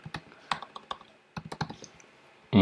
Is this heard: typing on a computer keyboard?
yes